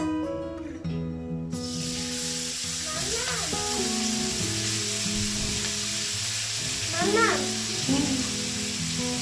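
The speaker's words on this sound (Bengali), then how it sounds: "তেলটা গরম হচ্ছে, আমি এবারে ঢেলে দিচ্ছি পেঁয়াজটা।" Chopped onion tipped into hot oil sets off a sudden loud sizzle that holds steady, with a voice and other talk in the room over the frying.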